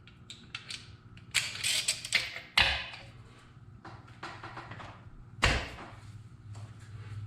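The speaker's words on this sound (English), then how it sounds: "remove this top nut right here, the 19 millimeter" Ratcheting hand tool working loose a 19 mm top nut on a Tremec TR6060 transmission from a 2007 GT500 during disassembly, with close mechanical clicks and several louder clanks and knocks spread across a quiet workshop.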